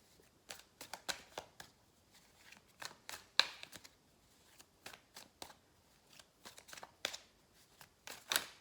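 Tarot cards shuffled by hand at close range, quiet riffling bursts and soft taps in uneven clusters separated by brief pauses.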